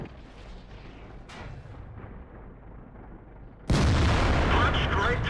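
An IS-3 heavy tank's cannon fires in World of Tanks, a sudden loud blast that cuts in abruptly over quieter engine rumble and lingers as a heavy roar.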